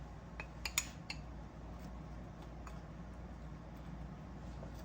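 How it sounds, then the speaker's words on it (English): A fork clinks against a bowl while tossing onions in flour, a few light metallic taps near the start and then soft, scattered clicks over a steady low background hum. "I'm going to take my fork and just toss them till my onions get coated real good"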